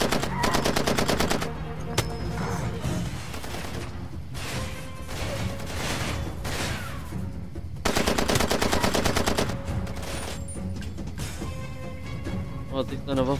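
Rapid bursts of small-weapon gunfire in Far Cry 2 crack loudly in clusters, with dense automatic rattles near the start and again mid-way, amid game ambience and someone talking.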